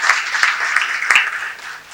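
Audience in a hall applauding a speaker who talked on fitness and discipline at a Gujarati lecture event, steady dense clapping throughout, fading slightly at the end.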